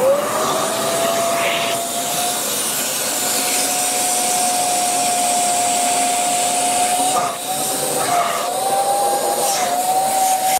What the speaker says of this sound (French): là, je vais aspirer